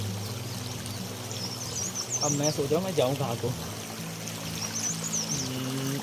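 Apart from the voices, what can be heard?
river babbling in Uttarakhand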